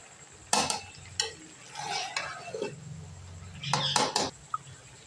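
A spoon scraping and clattering as garam masala is mixed into a potato, chicken and cauliflower curry in a pot, with sharp metallic knocks and scraping strokes in irregular bursts, close and fairly loud.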